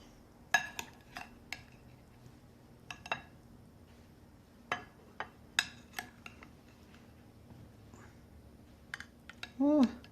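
A metal spoon scoops clam stuffed mushrooms onto a plate, with scattered sharp clinks and scrapes against the dish spaced irregularly, close and fairly quiet.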